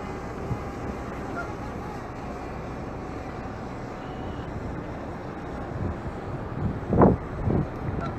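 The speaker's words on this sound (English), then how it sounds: "Yeah, it's getting pretty windy down here." Wind buffets the microphone outdoors in a steady low rumble, with a few louder gusts near the end.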